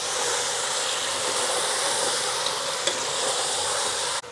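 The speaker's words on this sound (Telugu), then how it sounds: "తలకాయ కూర వేసినాక కలుపుకోవాలి." Goat head curry cooking with ginger-garlic paste sizzles loudly and steadily in the pot while being stirred, a dense close hiss with a single clink of the spoon near the end.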